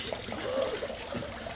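Natural spring water piped down from a mountain runs continuously through a man-made outlet, a steady close trickle and gurgle with no voices over it.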